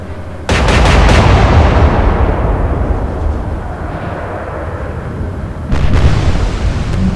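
Warship guns fire in the Atlantic Fleet naval battle game: a heavy, booming salvo rolls into a long fading rumble, and a second loud shot lands near the end.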